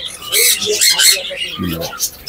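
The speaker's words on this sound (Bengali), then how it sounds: "এখানে কিছু জাপানিজ বাজিগার আছে" Japanese budgerigars chirp and squawk in a bird shop, a dense cluster of close, busy calls with someone talking over them.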